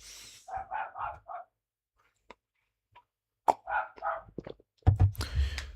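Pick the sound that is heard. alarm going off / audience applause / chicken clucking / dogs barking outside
dogs barking outside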